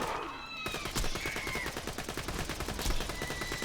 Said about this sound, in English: let's try the pistol now